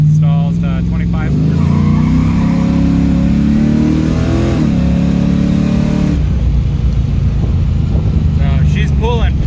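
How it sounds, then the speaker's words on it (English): An LS1-powered car accelerates hard, its V8 engine climbing in pitch through the gears with a loud, close, throaty roar, a brief shift dip midway, while someone talks over parts of it. "So she's pulling pretty freaking hard."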